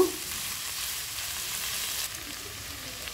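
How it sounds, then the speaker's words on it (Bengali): Vegetables stir-frying for noodles over a high flame, a steady close sizzle with constant hiss running throughout, no voices. "আমি এই সবজিগুলা চুলার আঁচটা বাড়িয়ে রেখে 5 মিনিট একটু ভেজে নিচ্ছি।"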